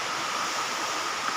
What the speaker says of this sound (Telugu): జోడు మామిడి వాటర్ ఫాల్స్